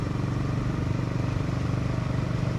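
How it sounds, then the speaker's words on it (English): A Honda GB350 single-cylinder motorcycle engine thumps steadily at idle, close and loud, with an even low pulsing rhythm and no talk over it. "It's got a really nice thump, this engine."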